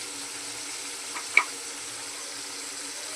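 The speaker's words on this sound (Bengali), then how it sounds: "কষানো হচ্ছে মশলাটা" Spice paste sizzles as it is sautéed with yogurt in a pan, giving a steady, moderate hiss with a single brief utensil clink partway through.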